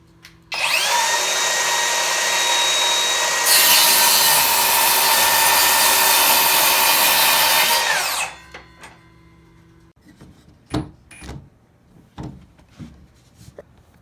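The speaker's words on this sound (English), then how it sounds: "we're just going to take this little piece of 2x4, we're just going to cut a little shave off of it" A small piece of 2x4 lumber is cut with a power saw for a sliding-door handle on a chicken brooder, running loud and steady for about eight seconds before stopping, followed by scattered knocks and handling clatter.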